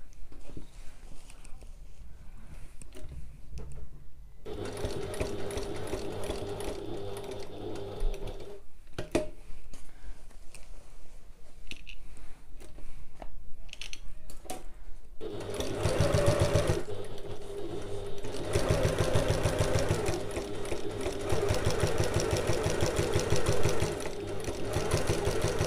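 A sewing machine runs in long, steady bursts while a large bag is sewn, its rapid needle clatter close and loud with brief pauses between stretches of stitching.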